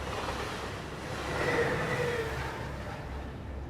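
A train rumbles along the tracks in the video game Into the Radius, a steady broadband roar that swells toward the middle, with faint metallic squeal on top.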